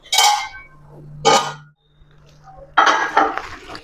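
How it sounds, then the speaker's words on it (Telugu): A lid set down on a cooking pot of moong dal with white sorrel, giving a few short clattering knocks separated by brief pauses, with no voice present. "మూత పెడదామండి."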